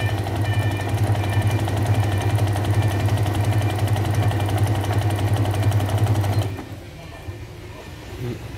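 A Singer Newve sewing machine running a zigzag stitch pattern, a steady loud mechanical whirr with fast rhythmic needle chatter that stops abruptly near the end, leaving quiet room sound.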